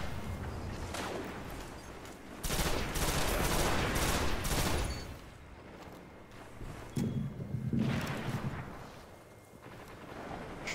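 Rapid rifle fire from the Stranger's rifle in the video game Destiny, played in a Crucible match, comes in dense bursts that swell and fade over several seconds amid busy game effects, with no talk.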